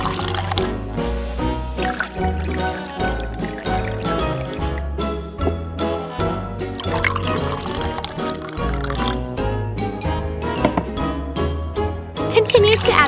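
Water being poured into a pot of rice, a steady trickle and fill with drips, heard under continuous background music.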